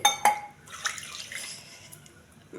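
Water is poured into a metal pressure cooker holding millets and moong dal, splashing and gurgling briefly after a couple of metallic clinks, then trailing off.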